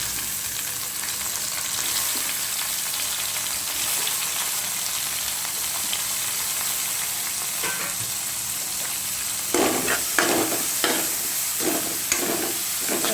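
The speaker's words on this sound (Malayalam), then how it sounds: "ഇപ്പോൾ ഇതിനകത്തോട്ട് നമുക്ക് ഇതിനകത്തോട്ട് തക്കാളി ഇട്ട് കൊടുക്കാം" Tomatoes sautéing with onions in a pan for a mutton dal curry, a steady close sizzle that grows into bursts of louder stirring scrapes and spatters near the end.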